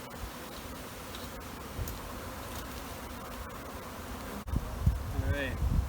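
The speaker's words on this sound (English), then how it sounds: "This is actually the second swarm I caught today." A caught honey bee swarm buzzes as a dense, steady drone throughout, close and continuous, with rustling and handling noises growing louder near the end.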